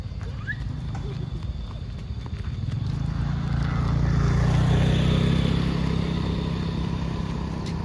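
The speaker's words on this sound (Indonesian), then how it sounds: "Ada kuda." Horse hooves clip-clop at Taman Jatibarang park, a steady run of hoof beats that grows louder toward the middle and fades slightly, with faint voices in the background.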